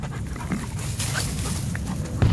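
A dog pants steadily close by in a continuous breathy rasp under a constant low background rumble, with a faint whimpering catch near the end and no talk.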